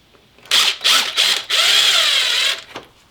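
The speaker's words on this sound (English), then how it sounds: "I like to use power tools as much as possible" A power tool whirs in short bursts, three quick revs followed by a longer sustained run, loud and close, then stops, while working on a BMW E46 330i ZHP.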